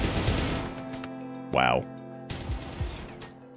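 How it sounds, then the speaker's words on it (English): Gunfire in the video game Rimworld, scattered shots and pops heard under a voice that talks over them, with a short whooshing effect partway through. "I like zooming out and just seeing the hail of gunfire."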